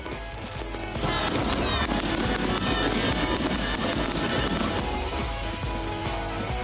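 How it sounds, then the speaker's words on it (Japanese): After a quiet opening, fireworks go off in a thick, continuous volley of crackles and thuds, with a murmur of onlookers beneath, at a summer fireworks festival at Ocean Expo Park, Okinawa. "夜空を彩る1万発の花火に大きな歓声が上がりました"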